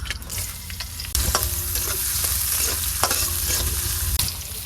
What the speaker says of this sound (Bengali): তেল দিয়ে দিলাম পিঁয়াজ করছি